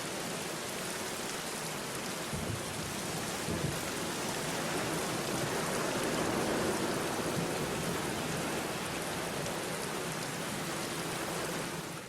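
Rain and thunder in the video game The Black Mirror, a dense steady downpour with low rumbling thunder rolling underneath throughout, with no voices.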